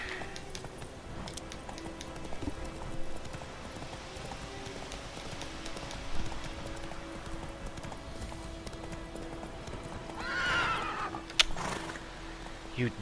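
Horse Roach from The Witcher 3 trots with steady hoof clip-clops and gives a brief neigh near the end, fairly quiet against faint background game ambience.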